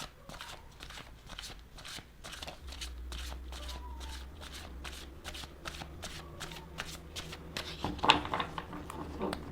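Tarot cards shuffled by hand in a steady run of crisp riffling flicks, close and clear, with no talking over them.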